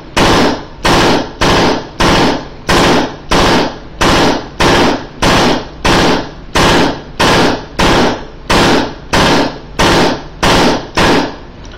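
A paintball marker fitted with an APE OLED board fires repeatedly during tune assist, about twenty sharp, loud, evenly spaced shots at a steady cadence, close up and without talking.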